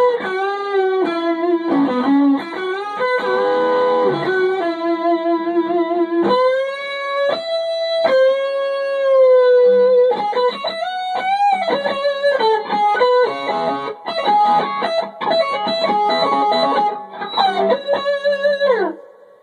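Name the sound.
modded guitar amplifier playing loud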